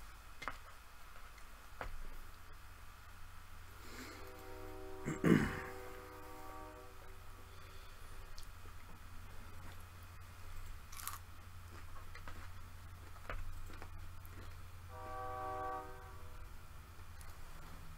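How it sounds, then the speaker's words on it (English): A train horn sounds at a distance, one prominent blast followed later by a fainter second blast over a steady low rumble of passing rail cars, heard during a Vintage Magic card game session. "The lovely trains."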